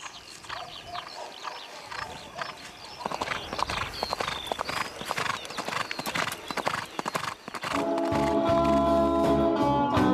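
A horse's hooves clip-clop in a steady, close, brisk rhythm while being ridden, loud and continuous, ending under sustained music.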